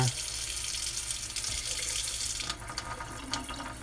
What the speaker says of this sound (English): we have working sprayer or stream